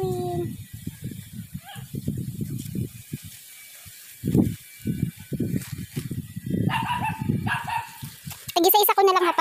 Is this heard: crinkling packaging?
no